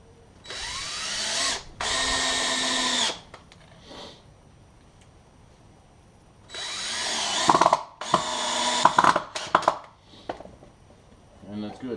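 Power drill driving screws into wooden boards for DIY outrigger pads: two long whirring bursts, a pause, then two more bursts with clattering handling noises, close and loud.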